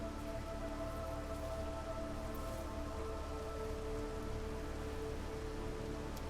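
Steady rain patters continuously during the drizzle season in the Against the Storm video game, with an even soft hiss and a faint sustained musical hum beneath it.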